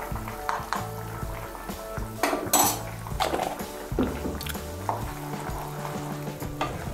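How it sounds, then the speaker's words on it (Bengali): A spoonful of ghee goes into a cauliflower kofta curry; close sizzling and frying fill the clip, with metal spoon clatter against the pan and a few louder scrapes and knocks, no voices. "আমি 1 চামচ ঘি দিচ্ছি।"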